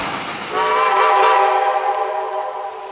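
A Cass Scenic Railroad steam train passes at Gum Road, its loud, steady chime whistle sounding over rumbling engine and rolling noise close by, fading slightly toward the end.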